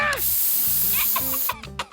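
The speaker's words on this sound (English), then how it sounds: "Oh no, I pepper sprayed Ralph." A short, loud burst of pepper spray hisses from a can in a Simpsons cartoon scene, followed by brief cartoon voices and clatter.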